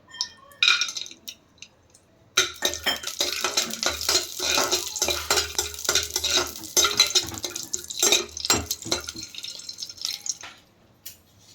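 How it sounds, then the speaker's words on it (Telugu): Almonds roast in a little ghee in a pan over low heat. A few light taps give way to busy stirring and scraping with a gentle crackle. It is close and moderately loud, then fades to faint ticks. "మళ్ళీ కొద్దిగా నెయ్యి వేసుకొని బాదం రోస్ట్ చేసుకోవాలండి"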